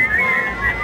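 A person whistling a short, wavering tone while trying not to laugh, close by, with a slight breathy edge and a brief dip in pitch midway.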